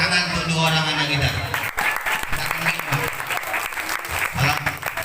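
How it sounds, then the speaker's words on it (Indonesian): Audience applause for two children at an Islamic religious lecture, steady clapping heard under a voice talking over it. "Tepuk tangan untuk dua orang anak kita."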